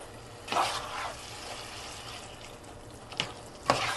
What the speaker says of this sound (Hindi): अब हम इसे अच्छे से मैश करेंगे